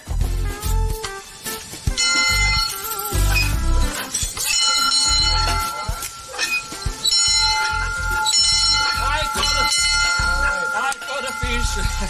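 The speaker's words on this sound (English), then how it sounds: "When you catch a muskie, you ring the muskie bell, and you let everybody at the resort know a muskie was caught." A muskie bell at a fishing resort rings repeatedly and loudly, its bright metallic clangs overlapping in an uneven, busy rhythm over about twelve seconds.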